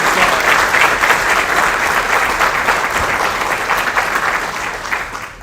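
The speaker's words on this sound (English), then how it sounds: "can we give her a round of applause?" Loud, close, continuous clapping from a conference audience giving a round of applause, holding steady before fading slightly at the end.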